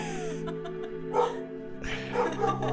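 A pet dog makes a few short, soft yips and whimpering barks indoors, fairly faint and close, with no one speaking over it.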